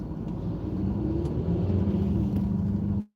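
A car rumbles steadily from inside the cabin as it pulls away from park, a low, even engine and road drone that cuts off abruptly at the end, with no talking.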